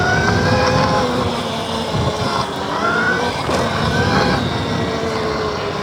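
A HiKNIGHT GTX1 Mini electric dirt bike's motor whines steadily and close, with rising and falling tones as it pulls from a standstill, over a constant rumble of movement and wind.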